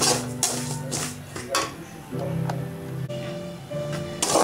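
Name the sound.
roasting semolina (rava) in a pan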